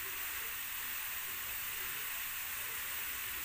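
Water with orange and lemon peels boiling in a pot, giving a steady, even hiss and bubbling rush that holds at a constant level throughout, with no voices.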